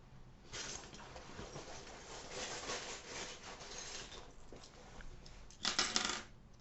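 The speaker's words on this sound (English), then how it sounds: "And now I'm going to pull you some charms." Small tarot charms being pulled and dropped, quiet clinking and rattling in soft bursts, ending in a sharper cluster of jingling taps near the end, faint and close with no talking.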